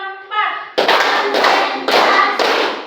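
A voice leads in, then a classroom of students claps in a counted rhythm, with three loud group bursts of many hands following one another at a steady pace.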